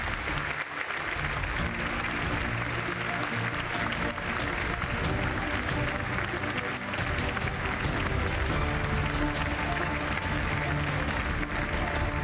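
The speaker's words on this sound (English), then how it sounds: "Our first winners, Klaus Feichtinger and Manfred Hackel. Big round of applause." Sustained, dense applause fills an award ceremony hall for inventor prize winners, a steady wash of many hands clapping at once, loud and continuous with no clear break.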